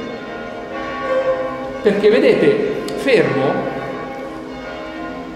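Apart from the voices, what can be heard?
church bells ringing at Loreto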